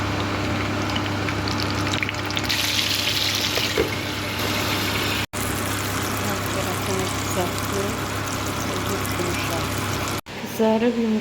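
Eggplant slices frying in a pan, a low steady sizzle under a voice talking over most of it, broken by two brief cuts.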